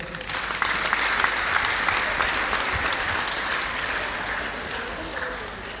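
An audience at a church gathering claps together in a dense, sustained burst of many hands, loud at first and tapering slightly toward the end, with no talk over it.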